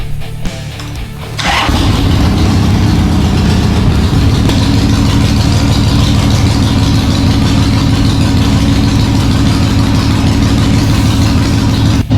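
A 2007 Harley-Davidson Sportster 883 starts up and settles into a steady, loud, lumpy idle, close by and continuous with no talking.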